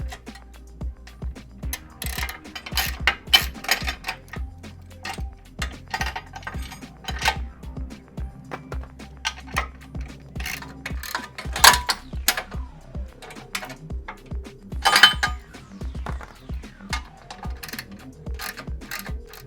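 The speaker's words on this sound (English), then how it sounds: "we're going to use our 5/8 again to remove this bolt" A ratchet with a 5/8 socket backs out bolts on a Jeep JL 4xe during a steel bumper and winch install, giving rapid, close, loud clicking in repeated bursts with metallic clatter between them.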